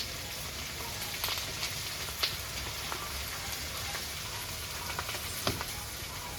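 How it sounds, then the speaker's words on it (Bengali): Ivy gourd (kundru) fries lightly in a pan, a soft, steady sizzle with faint crackles and a few small stirring clicks, quiet and close with no talking. "কিন্দুরিটা আমার হালকা ভাজা হয়ে গেছে"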